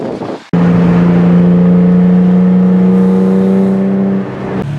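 A modified Nissan 350Z fitted with a Tomei differential holds a steady, loud engine note at Thompson, sustained revving for several seconds after a brief lead-in, with no voices.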